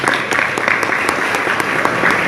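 Lecture audience applauding at a university anniversary gathering, a dense steady patter of many hands clapping close and loud for the whole stretch, with no voice over it.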